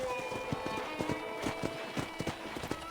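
A ridden horse in the western game Red Dead Redemption clops along with a steady, rhythmic run of hoofbeats over a continuous ambient background.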